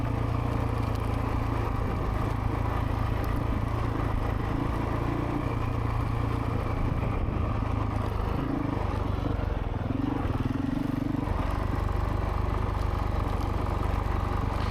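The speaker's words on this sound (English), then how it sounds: "I'm kind of just letting my bike coast in gear. I think I'm in first gear actually also." A Honda CRF450RL dirt bike coasting downhill in first gear on a gravel trail, a steady low engine drone with wind rumble throughout, fairly even and close.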